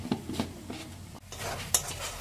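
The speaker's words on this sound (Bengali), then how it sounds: "ভালো করে একটু কষিয়ে নেব" Mutton curry with red chili powder being sautéed in a pan: a quiet, close sizzle with soft scraping stirs and occasional clinks of the utensil against the pan.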